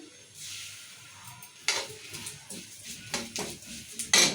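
Cumin, coriander seeds, peanuts and sesame seeds dry roasting in a pan for ivy gourd chutney: a soft, dry rustle and sizzle, then several sharp scrapes and clinks of stirring at an uneven pace, close by.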